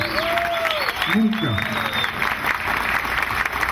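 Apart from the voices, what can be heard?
audience applauding the governor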